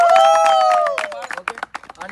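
Applause for the players at a cricket tournament, heard as a short scatter of claps that follows a raised voice, with people talking over it.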